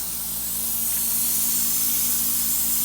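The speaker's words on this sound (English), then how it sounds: "throw a little bit of water in there." A steady hiss of water sprayed into a drain in a Jetta Mk4 ute bed frame, close and continuous for the whole stretch with no voices.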